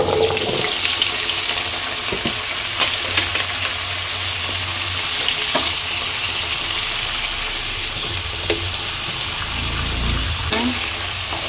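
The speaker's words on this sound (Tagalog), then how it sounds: "Unahin ko muna itong carrots at saka ang patatas. Medyo iaan na natin, ipiprito." Carrots and potatoes fry in cooking oil for a chicken curry, giving a steady broad sizzling hiss that runs unbroken throughout, with occasional small pops and faint kitchen knocks underneath.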